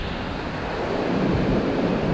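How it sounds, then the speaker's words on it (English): Strong, cold wind buffeting the microphone at a Delaware River bank below a dam, a loud continuous rushing roar that swells slightly, heard alone with no voices. "this wind is cutting my fingers off"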